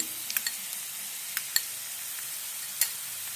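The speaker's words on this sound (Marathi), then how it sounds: "आलं खोबरं लसूणला तीन ते चार मिनिटं मंद आचेवर चांगलं परतवून घेतलं" Ground coconut, ginger and garlic sauté in a pan over low heat for a chickpea curry, a soft, even sizzle with a few light clicks of a spoon, close but fairly quiet.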